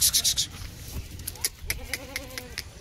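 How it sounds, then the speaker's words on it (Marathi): Freshly kidded milking goat bleating close by, a few short wavering cries among scattered farmyard knocks and movement noises. "ती ताजी जनलेली शेळी हे बघा"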